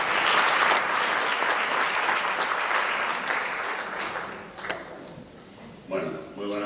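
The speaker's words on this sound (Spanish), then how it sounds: "recibimos con un fuerte aplauso al concejal de Cultura, Alejandro Blanco." Audience at an awards ceremony bursts into strong, sustained applause that fills the room and gradually thins out, with a few scattered claps and room noise at the end.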